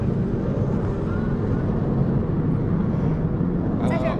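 Military jets in formation at an airshow in China make a continuous loud, broad roar that stays dense and even as two aircraft on the flanks bank away, with a faint higher whine near the end.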